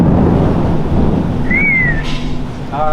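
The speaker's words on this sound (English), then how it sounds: "it's raining hard already" Heavy rain pours down in a loud, dense roar with a low rumble of thunder underneath, close and continuous, while a faint whistling tone rises briefly over the downpour.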